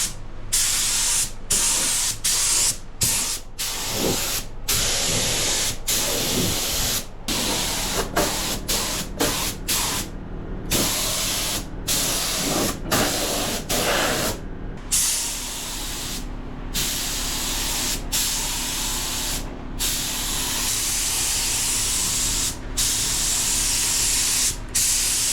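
Long bursts of loud spray-gun hiss as paint is sprayed on a first-generation Toyota pickup truck, repeatedly starting and stopping with short gaps, close up, over a steady compressor-like hum.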